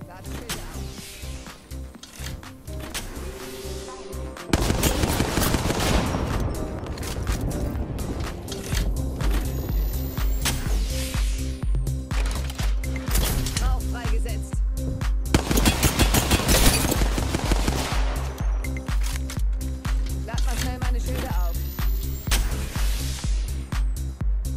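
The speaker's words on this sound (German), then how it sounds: "Ihr seht mit der Hemlock, du kannst sehr genau schießen und sehr schnell." Hemlock rifle fire in Apex Legends rings out in dense rapid bursts of loud, close shots that repeat throughout, mixed with footsteps and game effects.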